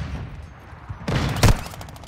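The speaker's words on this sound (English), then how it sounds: "taking effective fire" Video game gunfire: two sharp, loud bursts arrive about half a second apart, rising out of a low background rumble, with no voices in between.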